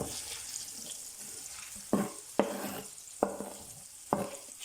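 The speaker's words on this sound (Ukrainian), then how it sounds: "Вкидаємо сюди порізану цибулю і смажимо до золотистого кольору." Chopped onions sizzle steadily in butter in a pan, with a handful of sharp utensil clacks and stirring scrapes breaking through the frying hiss.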